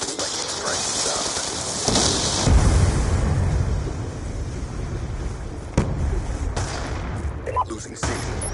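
Lightning Strike airstrike explosions rumble and crack in Black Ops 2 multiplayer, with several sharp blasts and gunfire over continuous loud battle noise.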